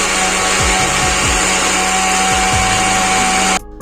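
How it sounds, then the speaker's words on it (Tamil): A kitchen mixer grinder blends musk melon with sugar in a loud, steady whirring roar that cuts off abruptly near the end. "சர்க்கரை சேர்த்துட்டு நம்ம மிக்சியில் அரைச்சி எடுத்துடலாம்."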